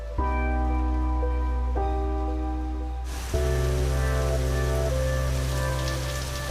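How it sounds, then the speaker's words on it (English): A sudden rain downpour lands in a garden setting, a dense hiss that thickens abruptly partway through under a steady low tonal bed. "I'm escaping a sudden downpour"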